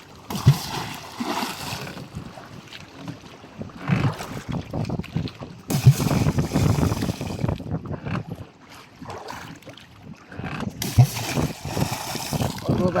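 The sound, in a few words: paddling an outrigger canoe on water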